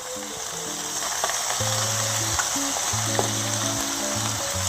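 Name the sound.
onions sizzling as they fry with king oyster mushrooms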